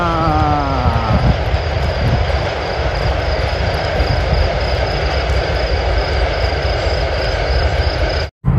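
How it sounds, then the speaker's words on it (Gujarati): A train runs along a railway line in the cold countryside beside a walking pilgrimage route, a steady loud rumbling roar that fills the whole stretch, with a faint rising tone near the start and a brief cut close to the end. "રેલવે દાય છે તમે બતાવું"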